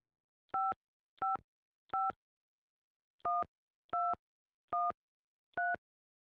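Telephone keypad tones in an office setting: seven crisp, evenly pitched beeps pressed one after another, a brief pause after the third, clear and isolated with no talking.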